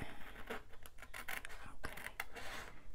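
Scissors cutting paper for a Christmas mini album craft, a close, dry rasp of several quick snips and slides across three seconds, with no talking.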